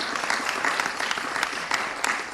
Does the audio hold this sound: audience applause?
yes